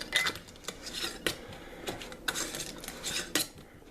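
Lid going onto a glass jar of homemade salsa, a series of sharp clinks and scraping taps with brief pauses between them, close and alone.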